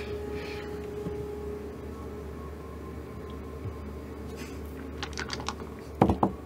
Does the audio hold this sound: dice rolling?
yes